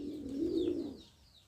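Pigeons, a father and his young son, cooing together in a low, soft, rolling call of steady moderate loudness, close by, with faint higher chirps above and no talk.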